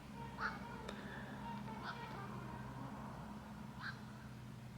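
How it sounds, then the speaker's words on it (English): Ducks quack a few times at a distance, short nasal calls spaced about 1.5 to 2 seconds apart, fairly faint over steady low outdoor rumble and hum. "Got the ducks going."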